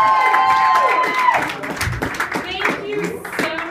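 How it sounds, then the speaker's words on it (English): A stand-up comedy audience applauds and cheers in a club, crowd clapping and whoops mixed with the performer talking into the microphone. "Thank you so much for the applause"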